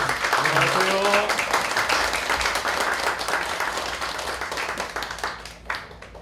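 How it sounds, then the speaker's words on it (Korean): An audience at a humanities lecture concert applauds with dense, sustained clapping that gradually fades, with a voice briefly heard at the start. "큰 박수로 맞아주세요"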